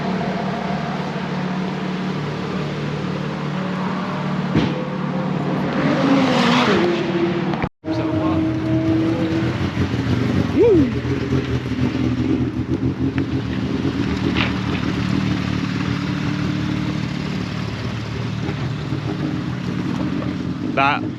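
An Ariel Atom's supercharged engine whines and roars as it laps the Knockhill race track, a sustained loud drone with rising pitch sweeps, wind buffeting across the microphone and a sharp break midway.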